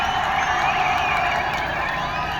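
Dense, steady roar of a large crowd cheering at Edappadi Palaniswami's political rally in Alangulam, continuous and loud throughout with no gaps.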